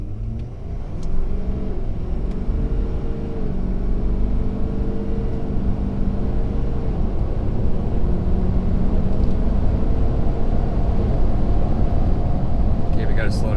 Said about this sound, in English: you can listen, hopefully, and you can see how smooth the truck shifts.